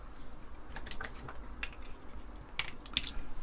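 Apple II Plus keyboard being pried open, a scattered run of light plastic clicks and snaps, close and fairly quiet, with a sharper crack near the end and no talking.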